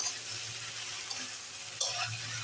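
Okra (bhindi) fries in a pan with a steady broadband sizzle, and a few soft scrapes and clinks of stirring rise briefly above it across a short stretch.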